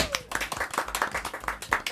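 A small group gives a round of applause, close, sharp hand claps in a quick uneven patter lasting a couple of seconds.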